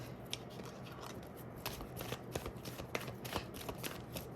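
Tarot cards being shuffled by hand, a steady run of crisp papery riffles and soft slaps at close range, with no talking over it.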